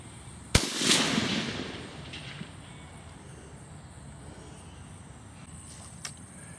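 A tank gun fires at a Sherman tank in a video game: one sharp, loud blast followed by a rolling, fading rumble over a couple of seconds, then a faint steady background hum and a small distant pop.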